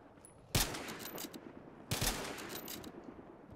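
Two sharp bursts of gunfire in the video game Battlefield: Hardline, the first near 0.5 seconds and the second near 2 seconds, each trailing into a rattling fusillade over steady game ambience.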